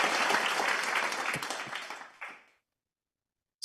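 Applause at an online club meeting, a burst of many hands clapping that fades over about two and a half seconds, leaving silence before a brief return of sound at the end.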